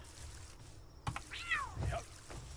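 Cat in the Palworld video game giving a short, rising-then-falling meow, followed by a second softer mew, close and moderately quiet over a low background hum.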